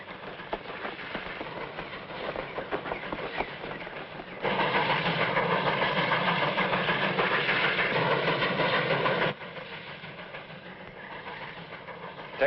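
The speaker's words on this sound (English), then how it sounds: "Smokestack's rolling that train." A steam train rolls along the tracks with a steady rumbling chug, swelling louder midway as it passes close, then easing back to a lower, more distant rumble.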